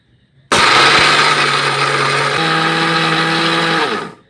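A mixer grinder whirs loudly as it grinds homemade Glucon D into powder, starting abruptly, holding a steady droning motor pitch that shifts slightly midway, then winding down at the end.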